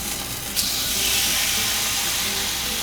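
A thin marinated steak for Puerto Rican bistec encebollado hits a hot pan with a sharp burst of hiss that settles into a loud, steady sizzle.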